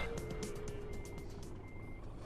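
A Scania truck in a driving simulator game reverses, and its backup alarm beeps in an even, rapid series of short tones over a low engine rumble, heard alone without talk.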